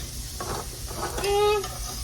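Onions and peppers sizzle in a hot pan, a soft continuous frying hiss with a brief squeak of stirring, low and steady in the background.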